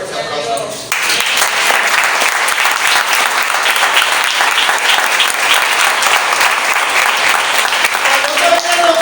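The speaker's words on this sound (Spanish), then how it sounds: "Quiero un fuerte aplauso." A church congregation bursts into strong applause during a sermon, a short voice giving way to loud, sustained close clapping that continues steadily to the end.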